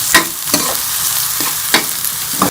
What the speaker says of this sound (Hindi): इसमें चॉप किया हुआ प्याज डाल देंगे। इसको थोड़ा सा गोल्डन कर लेंगे।